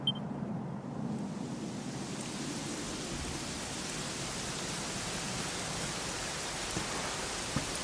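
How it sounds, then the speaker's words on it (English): Steady, even rain hisses throughout in the video game Dragon Quest XI, a dense constant wash of drops with a low rumble underneath and no voices. "it was raining like this the last time I ever saw her."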